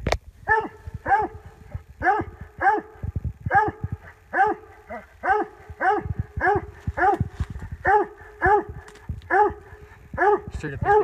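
Coonhounds bay in a steady rhythmic chop at a raccoon treed up a big pine during a night hunt, several loud repeated bawls with short gaps, and a person talks faintly underneath.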